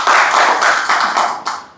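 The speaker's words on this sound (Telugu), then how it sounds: "సో వారికి కూడా ఒకసారి గట్టిగా క్లాప్స్ కొన్నాం" Audience clapping at a Lions Club gathering swells in quickly, rolls along in uneven waves of close hand claps and then tapers away with a final few claps.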